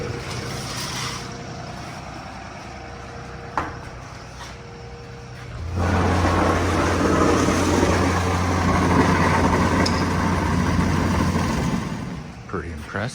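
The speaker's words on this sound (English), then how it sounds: "the guys blowing in the insulation" A machine blowing loose-fill insulation into a house runs as a steady, loud droning rush that swells noticeably about halfway through and holds to the end, with people talking over it.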